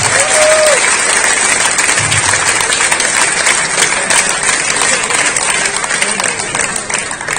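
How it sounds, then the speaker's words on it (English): Loud, sustained audience applause follows a match victory in a league final, a thick continuous roar of clapping that stays strong throughout and eases slightly near the end. "An enormous applause for Rafa Conrad"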